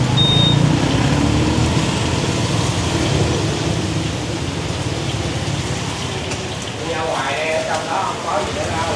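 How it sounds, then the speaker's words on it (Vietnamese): Steady rain falls on a Saigon street, a dense continuous hiss close by with passing traffic rumbling underneath and brief voices near the end. "Ta xem còn mưa không nha các bạn."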